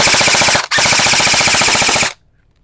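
HFC airsoft rifle firing full auto at about 480 FPS, two rapid rattling bursts with a brief gap, very loud and close, cutting off abruptly into silence.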